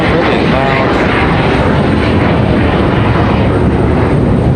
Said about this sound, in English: really loud exec jet getting out of here.